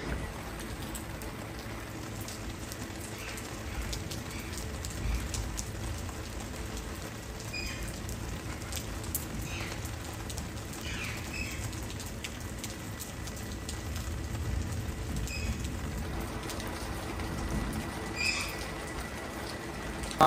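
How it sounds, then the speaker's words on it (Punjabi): Steady rain falls on a village home, a continuous broadband patter of drops on surfaces that holds constant throughout, with faint birds in the background and no voices. "ਬਾਰਿਸ਼ ਫਿਰ ਹੋਣ ਲੱਗ ਗਈ ਲੈ।"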